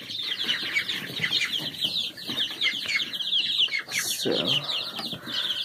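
Young chickens growing in a brooder corner under a heat lamp, with ducks nearby, keep up a dense, steady chorus of high chirps and soft clucks close by, with a brief voice in the middle.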